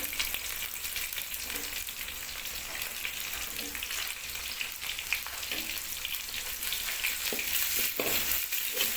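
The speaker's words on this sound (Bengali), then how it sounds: "টমেটো দিয়ে একটু নেড়ে নিতে হবে" Tomatoes and ginger-garlic paste sizzle steadily in a pan for a soybean curry, and a utensil stirs them now and then with soft scraping clinks. The sizzle grows slightly louder toward the end, with no talking.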